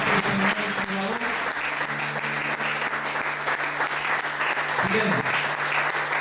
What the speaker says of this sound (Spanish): Demos un aplauso fuerte a Jesucristo, nuestro Señor y Salvador.